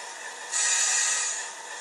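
A Bachmann class 70 Freightliner model train speeding up, a steady hiss and whine that suddenly rises louder, holds for about a second, then eases back, close and alone.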